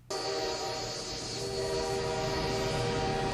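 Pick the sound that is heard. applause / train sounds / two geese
train sounds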